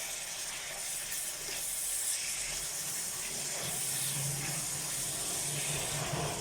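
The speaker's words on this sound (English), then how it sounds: "we're going to continue just crisping this bacon up" Bacon crisping in a pan gives a steady, close, bright sizzling hiss that holds at an even level throughout, with no talk over it.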